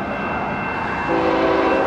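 A train passes near a motorcycle racing circuit, a steady broad rumble with a faint horn-like tonal line rising in the second half, loud and continuous with no talk.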